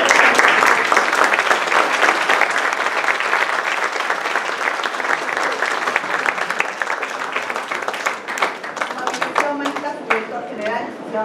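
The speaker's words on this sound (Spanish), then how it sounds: "vamos a dar un aplauso" Loud, sustained applause from an audience of students and teachers for a teacher at a school event, dense clapping that thins toward the end as voices take over.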